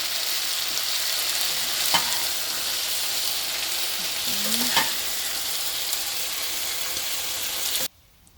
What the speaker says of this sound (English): I'm gonna give it one final stir.